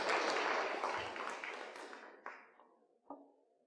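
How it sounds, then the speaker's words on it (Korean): Church congregation clapping for a worship ensemble after a song at a Sunday service, a brief burst of applause that quickly thins out into a few scattered last claps. "다시 한번 우리 앙상블에게 박수로 격려하도록 하겠습니다"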